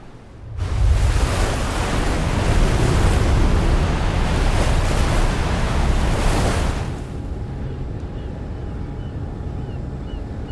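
Lake water and waves in Death Stranding, a loud broad rushing wash of water lasting several seconds, then easing to a softer steady lapping ambience.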